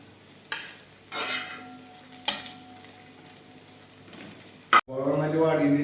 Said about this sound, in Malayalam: സവാള നമുക്ക് നന്നായിട്ട് വാങ്ങാം